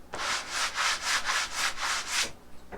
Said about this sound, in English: So I got a sanding block, and we're just going to go over the entire table